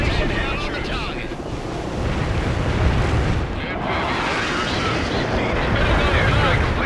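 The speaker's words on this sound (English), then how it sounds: "Airstrike completed on the marked coordinates" Airstrike explosions in the video game World in Conflict, a dense, continuous roar of blasts and rumbling artillery-like fire with aircraft noise, loud and sustained with no pauses.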